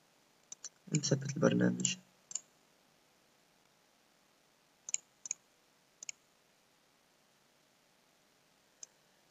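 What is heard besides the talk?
computer mouse clicks while installing a program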